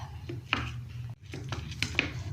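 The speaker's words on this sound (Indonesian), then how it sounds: "kalau diulek itu lebih sedap ya, jadi aku mau ulek aja" Spices ground with a stone mortar and pestle (ulekan), irregular close scraping and knocking strokes with a few sharper clicks, moderately quiet and alone.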